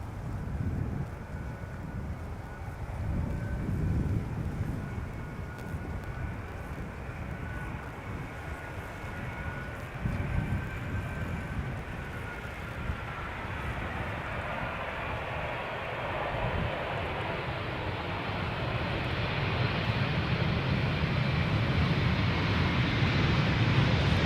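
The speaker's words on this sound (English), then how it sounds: "KLM B706, 777-200 arriving from Rio de Janeiro" A KLM Boeing 777-200 airliner landing, its engine roar and rushing whine building steadily from moderate distance, with wind noise buffeting the microphone throughout.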